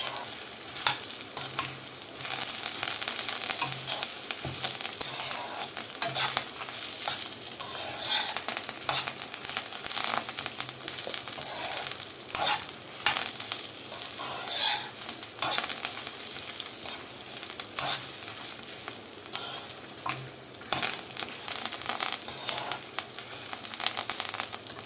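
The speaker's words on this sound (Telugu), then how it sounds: "ఇవన్నీ కూడా దోరగా అయ్యే వరకు ఫ్రై చేసుకోవాలి అదే ఆయిల్లో" Dry red chillies, about fifteen garlic cloves and curry leaves frying in oil for gongura chutney: a steady, dense sizzle with stirring scrapes and crackles running continuously throughout.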